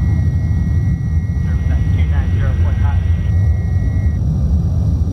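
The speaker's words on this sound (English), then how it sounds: "into the afterburner detent, you can hear the burners there lighting off" Lockheed SR-71 afterburners roar in a flight simulator game, a loud, steady, dense engine rumble throughout, with a voice talking over it.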